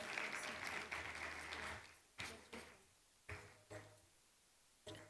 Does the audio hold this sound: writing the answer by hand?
no